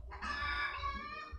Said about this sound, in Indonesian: Ada mungkin nanti kedengaran ada suara ayam berkokok di sana.